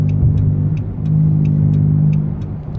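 Interior drone of a 2012 Dodge Charger SXT with a 3.6L V6, Magnapacks exhaust and K&N intake, windows closed, a steady low engine hum that swells briefly under light throttle, with faint regular ticking above it.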